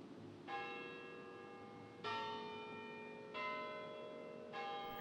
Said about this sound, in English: If you hear the automatic chimes, that is the quarter-hour chimes, that is automatic.